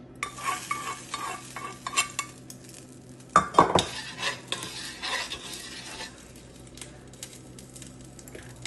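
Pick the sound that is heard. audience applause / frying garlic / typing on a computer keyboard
frying garlic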